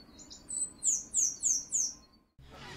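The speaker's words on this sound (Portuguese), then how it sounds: "Periquitão." Periquitão parakeet, a noisy flock-dwelling parrot, giving a series of five shrill, rising calls at a steady rhythm, fairly close and clear, before a brief silence and a burst of rustling noise.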